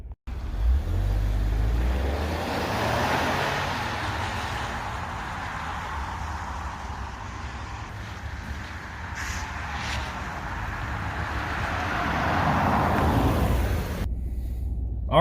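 A 2020 Ford Edge ST crossover SUV with a 300-horsepower engine drives on the road, its steady low engine and road rumble holding throughout, swelling slightly near the end with brief cabin clicks.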